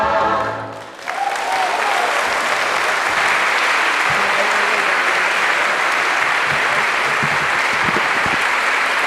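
An audience at an Arbutus Singers choir concert breaks into loud, sustained applause for the soloists, rising sharply after a brief fading note and holding steady to the end.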